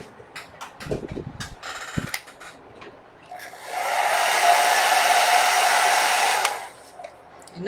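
A hair dryer blows on wet paint on a bullet journal page, switching on for a steady, moderately loud whir of about three seconds and then cutting off, after a few soft taps and rustles.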